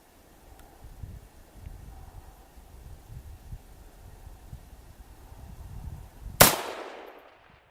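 A single rifle shot at a target at 50 yards rings out sharply near the end, after several seconds of quiet wind and rustling outdoors.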